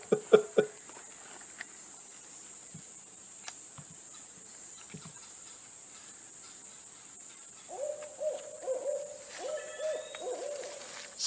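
An owl hoots a few times, faint and distant against a constant high whine of crickets and insects at night, with scattered small rustles and a louder rise of calls near the end.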